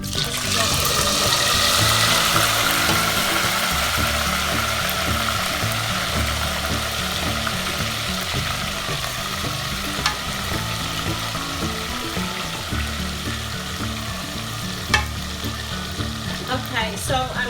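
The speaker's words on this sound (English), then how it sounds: "I'm just gonna just deep fry the meat with the onions" Goat meat and onions deep frying in boiling oil for a Ghanaian stew, giving a steady, dense crackling sizzle throughout with faint clinks and a voice murmuring underneath.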